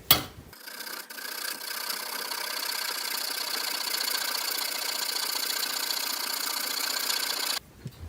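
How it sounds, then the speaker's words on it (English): A hand saw cuts through a clamped 2x4 board, giving a close, continuous rasping drone that starts abruptly and stops near the end. "You take this saw, just run it right on the edge"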